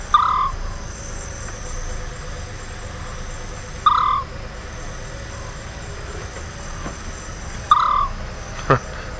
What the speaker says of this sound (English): Beautiful sound of the scops owl